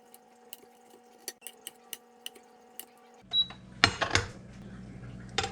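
A knife dices mushrooms on a cutting board, a series of sharp evenly spaced taps, then a louder clatter and rustle of food being handled close by.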